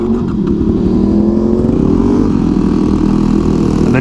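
A 2009 Yamaha WR250X motorcycle engine runs loud and close for the whole stretch, a steady low throbbing idle with a slight rise in revs partway through.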